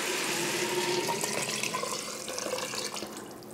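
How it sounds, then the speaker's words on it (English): Stock pours steadily into an Instant Pot for split pea soup, a continuous close liquid splashing and gurgling with no talk. "now carefully add the stock"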